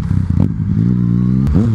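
Yamaha MT-09 motorcycle, close and loud: a burst of rough, crackling engine pulses, then a sustained revving tone that climbs with a gear change near the end.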